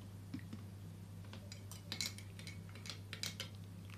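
A spoon clinks faintly and irregularly in a cup of homemade slimming tea as lemon juice is stirred in, the soft metallic taps scattered over a steady low hum.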